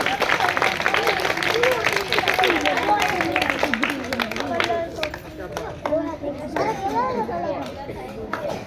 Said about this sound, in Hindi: तो बेटा इनके लिए, तीनों के लिए तालियां बजाएं